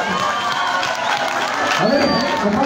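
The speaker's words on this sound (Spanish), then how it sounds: "fuerte los aplausos" At an outdoor village festival, a crowd claps and cheers in a dense, continuous wash of noise throughout, with voices and shouts mixed in.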